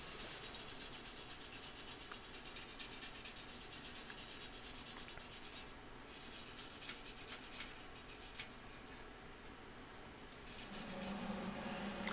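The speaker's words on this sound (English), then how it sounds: "Here I'm using a pneumatic wire brush to clean off this weld." A pneumatic wire brush scours a steel weld on a welded keyboard shelf, a continuous harsh abrasive hiss that eases briefly midway, then picks up again, with no speech.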